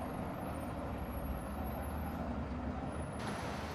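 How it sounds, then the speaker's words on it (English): A heavy construction truck carrying a digger rumbles by on a road, a low steady engine drone with a faint hiss of air brakes, distant and quiet throughout. "And here comes a heavy construction truck carrying a digger."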